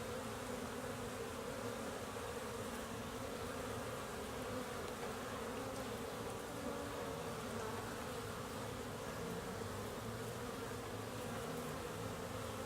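Honeybees buzz around a beehive in late March, a continuous faint hum of many insects holding steady throughout with no talk.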